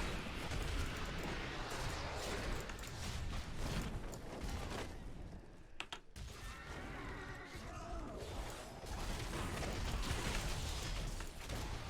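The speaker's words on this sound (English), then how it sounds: "we don't need to worry about dodging out of these explosions." Dense, continuous booming and rumbling explosions from Diablo 3: Reaper of Souls, layered with mechanical clatter and chaotic effects, loud throughout with a brief dip midway.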